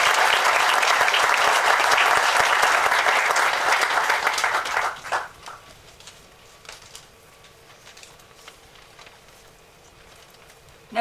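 Audience applause at a groundbreaking ceremony in Carlisle, dense loud clapping for about five seconds that cuts off abruptly, leaving quiet room tone with a few faint trailing claps.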